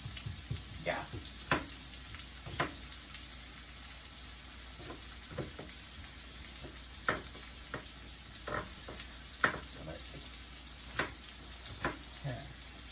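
White onion fries in a pan with a steady low sizzle, broken by occasional sharp clicks and scrapes from stirring or slicing nearby.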